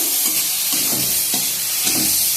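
Prawns fry lightly in a pan with a steady, close sizzle, while a spatula stirs them in soft intermittent scrapes; there is no talk.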